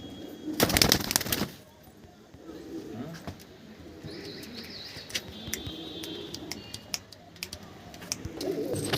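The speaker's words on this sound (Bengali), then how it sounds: "বন্ধুরা পায়রা দেখো, সমিতা মেন ব্রিডিং সেট আপে খুলে দিয়েছে পায়রা, দেখতে পাচ্ছ প্রচুর পরিমাণে পায়রা আছে।" Many pigeons in a breeding loft coo and shuffle, with a loud burst of wing flapping near the start, then scattered clicks and soft calls at moderate distance. Faint voices are present.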